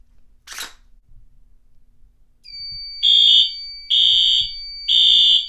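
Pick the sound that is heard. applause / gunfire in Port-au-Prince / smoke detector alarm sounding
smoke detector alarm sounding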